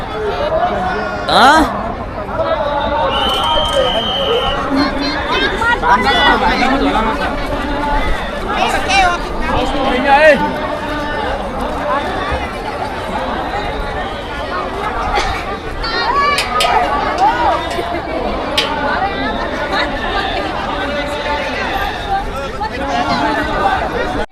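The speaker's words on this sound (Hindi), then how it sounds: "यहाँ भक्तों का भीड़ तो मत पूछो, पूछने लायक ही नहीं है" Dense crowd of devotees chattering and calling out on the bank of the Ganges, a steady, loud babble of many overlapping voices with occasional louder shouts close by, continuing throughout.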